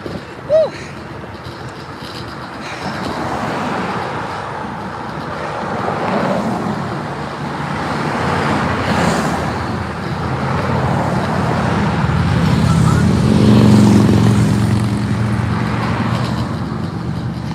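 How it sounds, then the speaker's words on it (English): Passing cars and gusting wind on a road during the ADA Tour de Cure charity bike ride in Wine Country, a steady roadway rumble swelling and fading as vehicles go by, with a voice speaking over it. "I feel like between the wind and cars, you probably can't hear me."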